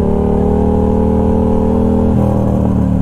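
A Yamaha FZ motorcycle engine hums loud and close at a steady pitch, shifting tone slightly near the end, with no talking.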